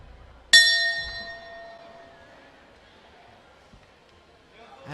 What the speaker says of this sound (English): And that is the bell for the 5th round, scheduled for 8.